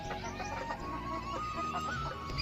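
A hen with her chick clucks softly in a rainy-season coop, a few short clucks close by over faint background noise.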